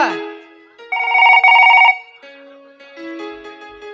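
A phone rings loudly and close by with an electronic tonal ringtone. One bright warbling burst is followed by quieter melodic tones, and there is no talk over it.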